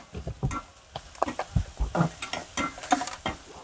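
Onions tossed into a pan and stirred in a home kitchen, with soft scraping, tapping utensil knocks and a light sizzle recurring irregularly at close range, no talking.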